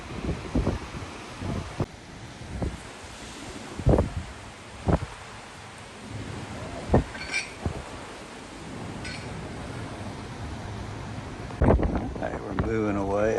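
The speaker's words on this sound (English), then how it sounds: "Fighting a pretty good wind." Strong wind buffets a cruise ship deck at a Royal Caribbean ship docked off CoCo Cay, with steady wind noise and gusty rumbles under occasional thumps and brief talk, ending in louder rushing gusts.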